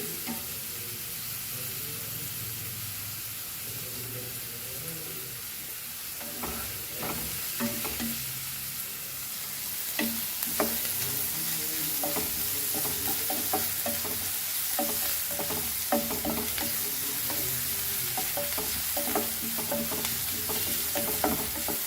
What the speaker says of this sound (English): So fry this nicely, very nicely.